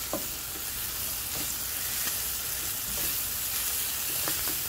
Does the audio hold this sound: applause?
no